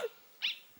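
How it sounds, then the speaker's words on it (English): A small dog barks in the video game Undertale, with two short, bright, electronic-sounding yips about half a second apart, clear and alone. "Bark, bark."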